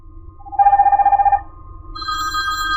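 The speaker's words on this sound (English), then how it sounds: "So she's placed the call, it's ringing," Telephone ringing for a placed call in a remote interpreting setup: a trilling electronic ring pulses rapidly for about a second, then gives way to a higher steady multi-tone signal, loud and close, without talk.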